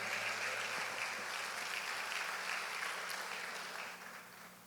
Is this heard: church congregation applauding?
yes